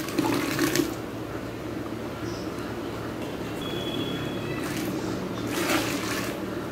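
Water pours into a large pot of vegetable kurma made for about fifty people, a steady close splashing and gushing rush that swells slightly at a couple of moments.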